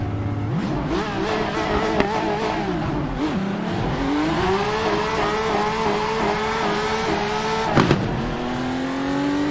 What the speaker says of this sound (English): Hear that backfire every time I lift throttle to shift.